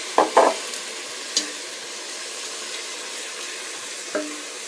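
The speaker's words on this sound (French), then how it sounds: "Bien mélanger." A spoon stirs egg and tomato curry sauce in a pan after a little water is added, giving a few soft scraping strokes near the start with a faint sizzle underneath, then quiet with one more light scrape.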